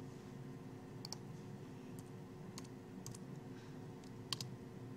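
Keys on a computer keyboard click in short, sparse clusters, faint and close over a low steady hum.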